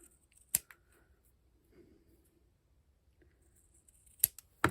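Scissors trimming small cut paper squares for a garland, a few sharp isolated snips spread apart in a quiet room, close and crisp.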